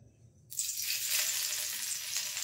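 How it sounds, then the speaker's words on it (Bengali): Garlic dropped into hot oil bursts into a loud, steady sizzle after a brief quiet moment, continuing close and unbroken with no talk; soya chunks and eggs had been fried in the same pan. "এবার আমি রসুনটা আগে ফোড়ন দিয়ে দেবো"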